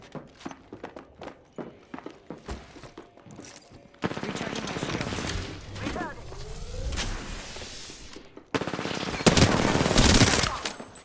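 Rapid bursts of automatic gunfire in a battle royale video game, with scattered single shots early on giving way to dense, loud sustained firing and a final heavy barrage, with a player's voice talking over parts of it.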